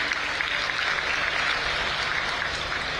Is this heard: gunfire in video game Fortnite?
no